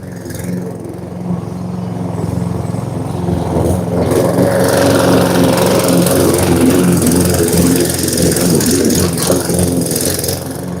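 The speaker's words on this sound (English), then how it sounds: "They're not very good, these mowers, in the wet. It starts spitting out." A lawn mower running over wet grass in a country garden, a steady mid-pitched engine drone that holds on loud and close throughout, with a rougher, busier texture building partway through.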